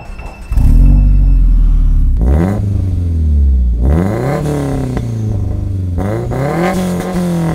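A Subaru WRX STI hatchback starts off and drives, its engine revving up loudly through several gears with rising pitch sweeps and brief drops at each shift, close and prominent throughout.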